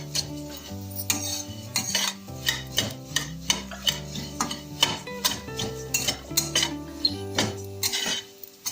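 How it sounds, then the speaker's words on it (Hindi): Flattened rice (chura) dry-roasted in a dry kadhai without ghee, with steady scraping and stirring, rhythmic clinks of a spoon against the pan, and a faint sizzle underneath, close and fairly loud. "चूरा फ्राई करूँगी तो वो बिना घी का करूँगी"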